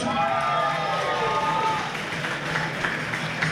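A crowd at an amateur boxing night cheers and applauds as a boxer in blue and white enters the ring, producing a loud, steady roar of voices and clapping throughout with shouts on top.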